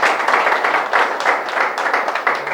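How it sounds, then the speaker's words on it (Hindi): Clapping from a gathered audience at an Eid Milap event at a public service hall, loud and close, with uneven bursts of hands that rise and fall in waves across the whole stretch. "सब तालियां बजाइए"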